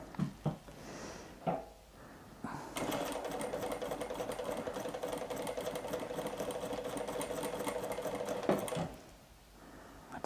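A sewing machine stitches a fabric bookmark pouch in a steady, close, whirring run lasting several seconds, framed by brief handling clicks and quiet pauses before and after.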